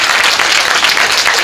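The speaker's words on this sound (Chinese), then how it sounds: "我们是不是再给我们馆长给他掌声，给他感谢一下？" Loud, close applause from a group at an outdoor tree-planting event in a Keelung park, given in thanks to the museum director, holds as continuous dense clapping throughout.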